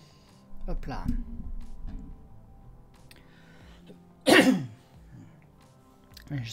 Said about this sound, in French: J'espère que ma petite toux ne vous a pas cassé les oreilles